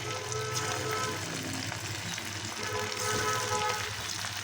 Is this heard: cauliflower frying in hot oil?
yes